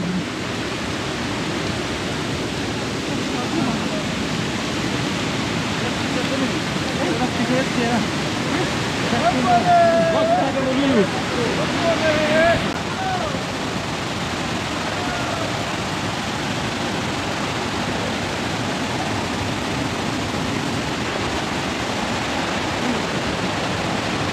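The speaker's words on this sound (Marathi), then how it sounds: "इथे मोठं ग्लेशियर आहे एकदम आणि त्याच्यावरती आहे वॉटरफॉल आहे" A steady, broad rush of a waterfall pouring over a glacier, with water flowing out beneath it, constant and fairly loud, with faint voices and brief squeaks partway through.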